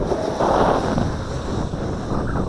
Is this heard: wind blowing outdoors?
yes